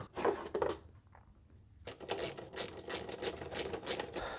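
Plastic engine cover and intake hose being pulled off a Mercedes A-Class W176, a run of close, quick rattling clicks and scraping handling noises, with a brief quieter pause before a denser burst of clatter.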